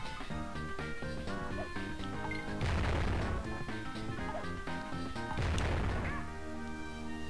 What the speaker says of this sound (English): you have to wait for the explosions to disappear